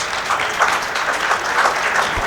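Audience clapping at a straight pool match at Derby City, a dense, even patter of many hands applauding throughout.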